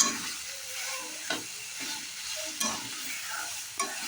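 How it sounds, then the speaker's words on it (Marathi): Mashed roasted brinjal bharit being stirred and mixed in a hot pan, a soft sizzle underneath with a spatula scraping through in regular strokes about once a second. "आता हे सर्व प्रकारे एकजीव करून घेऊन छान मिक्स असं करायचं"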